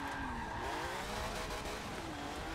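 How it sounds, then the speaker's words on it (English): Jaguar XJ220 V6 engine in Forza 7, revving steadily with rising and falling tones and squealing, skidding tires during a drift, loud and continuous with no talk. "V6s don't tend to sound too good in this game. They usually sound really generic, but that's a good sound."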